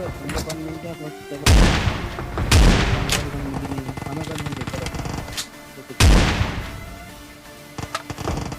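Loud, booming gunfire in a battle royale video game, with several heavy blasts spaced a second or more apart amid continuous game noise and action, some of it shotgun fire.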